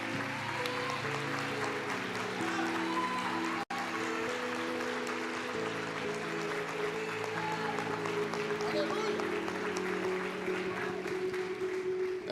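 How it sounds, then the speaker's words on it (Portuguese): A congregation applauds during an evening church service, a continuous wash of clapping spread evenly across the room, blended with sustained musical tones and a voice. "Pode aplaudir o Senhor, eu vou aplaudir com vocês"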